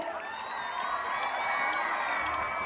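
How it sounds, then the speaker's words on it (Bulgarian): A concert crowd at a Coca-Cola The Voice Happy Energy Tour show cheers and claps, with a steady roar of voices, whoops, and scattered applause carrying on throughout at moderate distance. "Моля аплодисменти за него!"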